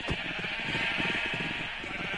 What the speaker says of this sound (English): This is maximum amount of sheep in the world.